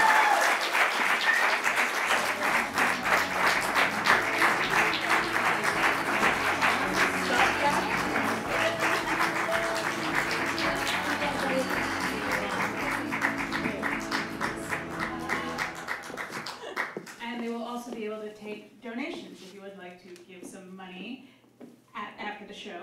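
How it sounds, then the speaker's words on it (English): Audience applause for guests at a live show, a long sustained burst of clapping at a steady level that thins and fades out, leaving a few scattered voices near the end. "please give them a huge round of applause for being here"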